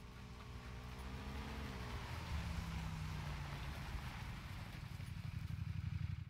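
Motorcycle engine in PUBG, a steady droning motor with shifting pitch and wind rush, moderately close and rising slightly in loudness over six seconds, no talk over it.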